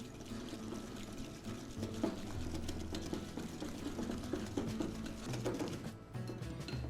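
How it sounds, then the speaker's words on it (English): Oil and sugar whisked in a bowl for eggless cupcakes: a steady, continuous run of quick scraping and sloshing strokes, fairly faint and close, with no talking. "using a whisk, I'm going to whisk this really well"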